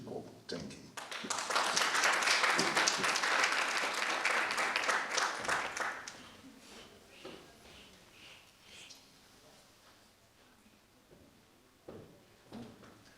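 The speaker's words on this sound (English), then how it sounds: "Let's give Kwachi another round of applause, please." Crowd applause at a media launch event in Limpopo rises loud and dense for about five seconds, then dies away to quieter room murmur with a few scattered claps.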